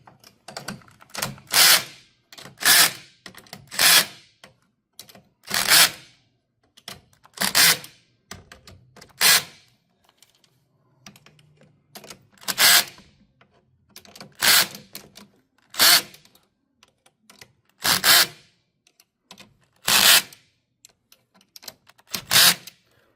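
Repeated sharp ratcheting and clicking bursts from a tool tightening the front brackets on a WheelEEZ TZ 42 all-terrain beach wheelchair, short spaced clusters with brief pauses in between, close and fairly loud, no talking.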